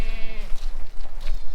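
Several goats bleat loudly and close by on a farm where a doe has just given birth, with wavering cries in quick succession.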